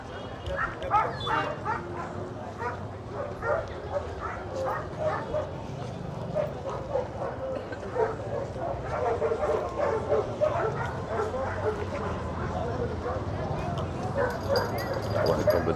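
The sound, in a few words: dogs barking at a dog market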